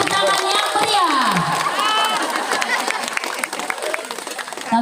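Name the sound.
audience applause after ribbon cutting countdown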